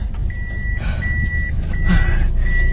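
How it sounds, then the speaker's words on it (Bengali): A vehicle backing up in a built-up area gives repeated steady electronic reversing beeps, clear and fairly loud over a low engine rumble and street noise. "পেছনে নেন, পেছনে নেন, গাড়ি পেছনে নেন"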